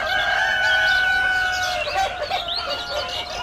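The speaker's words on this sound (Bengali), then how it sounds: "দেখেন আমাদের হাই সুপারের মুরগি" Sonali high super breed chickens and a rooster, crowing loudly and close with clucking and chirping throughout, a long crow stretching over the first couple of seconds; no talking.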